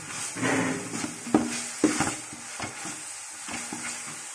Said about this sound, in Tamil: ஒரு பெரிய ஸ்பூனில் மூணு ஸ்பூன் இஞ்சி பூண்டு பேஸ்ட் போட்டுக்கோங்க கொஞ்சம் நல்லா மிக்ஸ் பண்ணிக்கலாம் கொஞ்சம் தள்ளினே வதங்குங்க